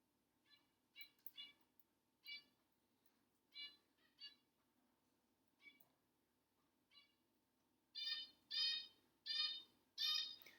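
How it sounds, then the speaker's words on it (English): Small zebra finches give a string of short, bright beeping chirps, scattered at first and then louder and quicker near the end, against a quiet room. "I got some pet zebra finches recently, and they're very cute, but they're very noisy"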